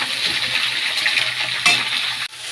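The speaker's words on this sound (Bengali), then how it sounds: "এবার আমি সবজিগুলো দিয়ে দেব। সবজিগুলো দিয়ে কিছুক্ষণ নেড়ে চেড়ে নিতে হবে" Mixed vegetables stirred in a frying pan, a close, bright sizzle with a couple of metallic utensil scrapes and a clink, ending in an abrupt knock.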